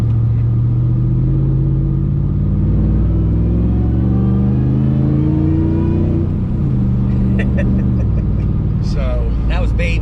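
Supercharged Hemi V8 in a Whipple Ram truck revs to about 2,500 RPM, a loud, deep rumbling engine note rising and falling steadily, heard close from inside the cab with people talking over it.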